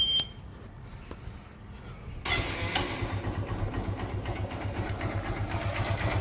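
A Honda Shine 125 motorcycle engine with reworked block, piston and valves runs close by, a quieter idle first, then a steady, louder rumble with a fine rhythmic pulse from about two seconds on.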